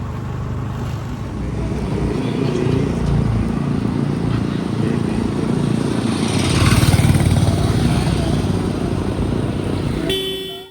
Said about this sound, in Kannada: ಈಗ ಸ್ಕೂಟಿಯಲ್ಲಿ ಹೋಗ್ತಾ ಇದ್ದೀವಿ ನಾನು ಮಮ್ಮಿ ಪಪ್ಪ